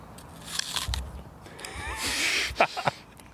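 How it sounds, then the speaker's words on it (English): A single crunchy bite into an apple, close and crisp, with a few sharp crunch bursts near the end amid room tone and faint background noise. "He concludes his point with a nice crunchy apple bite"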